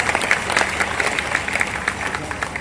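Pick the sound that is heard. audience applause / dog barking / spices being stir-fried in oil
audience applause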